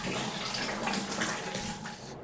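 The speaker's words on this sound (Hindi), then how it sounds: "ओवरफ्लो हो गया है गर्म पानी मेरा।" Hot water gushes and splashes as it overflows from a tap in a bathroom, a steady, close, noisy rush with no talking.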